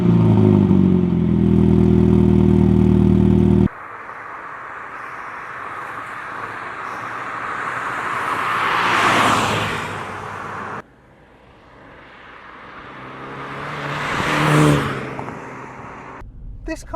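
A 2019 Mini Cooper S hot hatch on twisty roads, its engine surging and revving in two rising passes with road rush, after a low steady drone at the start; speech appears to be present.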